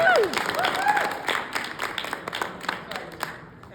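Audience applause at a talk, breaking out for a speaker who just finished her dissertation: a loud burst of scattered clapping that slowly thins and fades, heard with a voice speaking over the top.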